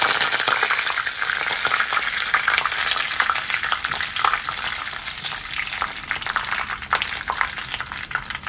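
Curry leaves fry loudly in hot oil for a mango pickle, a dense continuous crackling sizzle with steady bubbling and occasional stirring, close up and without voices.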